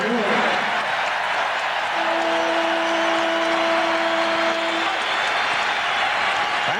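Arena crowd at a 1992 NBA game between the Chicago Bulls and New York Knicks, a loud steady roar of cheering and applause with a sustained tonal hum running through the middle.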